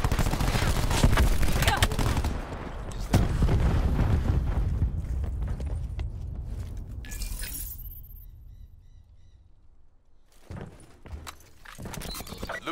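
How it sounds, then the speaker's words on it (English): Cluster grenade blasts in the video game Call of Duty: Black Ops 4, a rapid run of loud, close booms and crackling bursts that fade into quieter game ambience before a few more impacts. "Cluster grenade going out."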